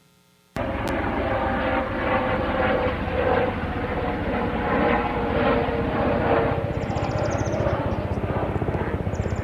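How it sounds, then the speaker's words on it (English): Loud, steady thudding rotor chop of a helicopter starting abruptly and continuing overhead, with faint bird chirps barely showing through near the end. "The first one is helicopter noise from a high use month"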